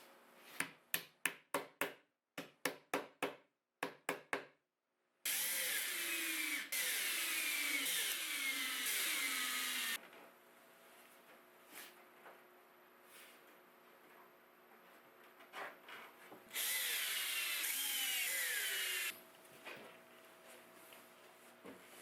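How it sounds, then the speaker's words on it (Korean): Power drill driving screws while hinges are fastened to a wooden roof in a small garden hut build, preceded by sharp clicks, then loud whirring bursts of a few seconds each, close and separated by quieter handling noise. "지붕의 수문경첩을 체결합니다."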